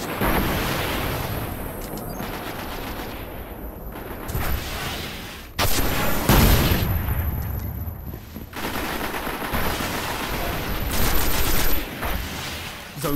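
Shotgun blasts in Destiny multiplayer, loud repeated bursts of gunfire with heavy impacts, one big blast standing out midway, amid constant game combat noise.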